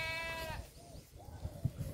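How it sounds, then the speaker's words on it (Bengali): A goat grazing beside bushes gives a loud, close, quavering bleat at the start, followed by quieter outdoor rustling and soft thumps. "এই যে ছাগলগুলো সব চড়ছে।"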